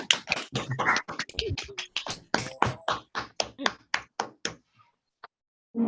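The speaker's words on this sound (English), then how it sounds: "give them all a massive round of applause" Online audience at an awards ceremony unmuting to clap for award recipients, with irregular sharp close claps and snaps from a few people that overlap, then thin out and stop.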